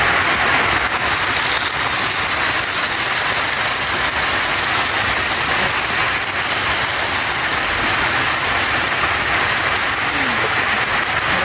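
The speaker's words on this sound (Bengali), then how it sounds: "বাইরে কি বৃষ্টি হচ্ছে, অঝরে বৃষ্টি, বাতাস।" Heavy rain and wind outside make a loud, dense, unbroken roar with a continuous hiss throughout.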